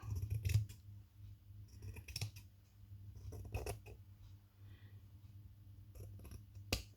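Scissors snip through fabric in a few separate crisp cuts, close and fairly quiet, with soft handling noise between them and no talking.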